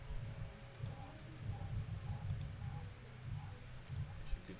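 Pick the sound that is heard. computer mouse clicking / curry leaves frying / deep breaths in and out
computer mouse clicking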